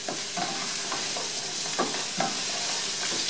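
Butternut squash cooks in a pot with other ingredients, giving a constant gentle sizzle and hiss with faint periodic scrapes from stirring, close but fairly quiet and without any talking.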